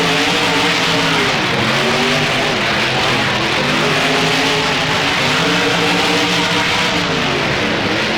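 Monster truck engines roar loud and continuous as trucks race side by side in a BeamNG 4th of July event, with revs rising and falling in waves.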